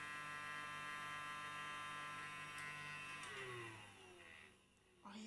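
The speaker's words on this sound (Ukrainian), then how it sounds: "Кузя дуже злякався пилососа, тому що він сильно гуде" A vacuum cleaner's steady motorized hum with a rising whine drones on for several seconds, then drops in pitch and fades as it winds down, starting up again briefly at the end.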